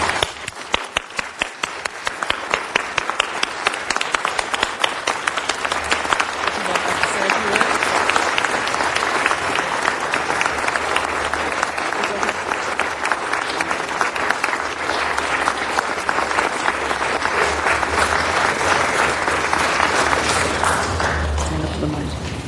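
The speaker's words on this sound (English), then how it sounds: "let's give them a big round of applause" A sustained round of applause fills a city council meeting, starting with scattered individual claps and swelling into dense, steady clapping from the room, with some talk underneath.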